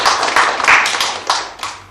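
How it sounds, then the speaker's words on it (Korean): A church congregation claps together during a Sunday service, a loud, close burst of overlapping hand claps that swells and fades in uneven waves. "하나님께 영광의 박수 올려드리도록 하겠습니다"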